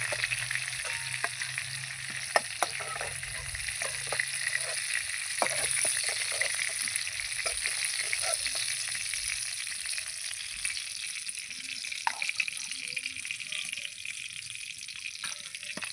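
Pointed gourd pieces sizzle continuously in hot oil as they fry until reddish, a steady close frying hiss with a few faint clinks of a utensil.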